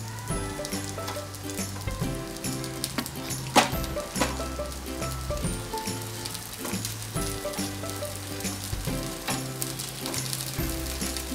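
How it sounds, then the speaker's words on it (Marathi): Ragda patties shallow fry in oil in a nonstick pan, giving a dense, continuous close sizzle with crackling pops and steady background hiss throughout, with no talking. "आपले हे पॅटीस आपण शॅलो फ्राय करून घ्यायचे आहेत."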